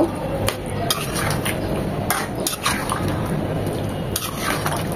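A spoon stirs beef rezala spices in a cooking pot, giving a few sharp metallic scrapes and knocks against a steady background hiss of sizzling.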